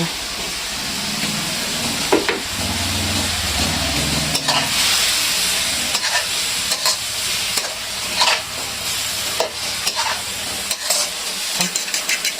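Chili and shallots fry hard in a pan, a loud, steady sizzle and hiss with irregular scraping strokes from stirring throughout.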